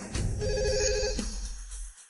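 A telephone rings with a single electronic ringtone burst, bright and tonal, close and fairly loud, then cuts off into silence.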